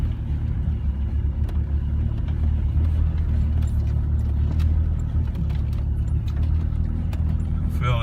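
A 20-year-old Land Rover Discovery 2 pulls along under added throttle, its engine a steady low rumble that holds close and loud the whole way.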